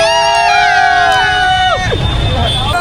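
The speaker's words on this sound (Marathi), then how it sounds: "गर्दी मजबूत आहे दादा, गर्दी पट्टे गर्दी." Dense crowd noise at the Lalbaugcha Raja farewell immersion procession, with overlapping voices, whistles and shouts close by, then a shift to rumbling babble, loud throughout.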